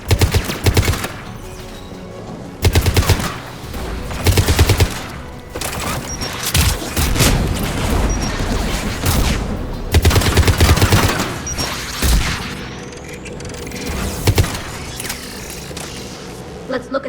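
Repeated bursts of gunfire in the video game Mass Effect 3, loud and dense, with rapid volleys recurring across the stretch over a steady background of game noise and music.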